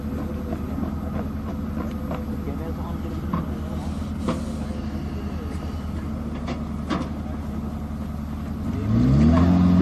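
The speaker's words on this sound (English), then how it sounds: "Using the auxiliary power unit, the gun can move at a maximum speed of 7 kilometers per hour." Self-propelled artillery gun moving under its auxiliary power unit engine at low crawling speed, a steady low mechanical drone throughout with faint clanks, swelling louder near the end.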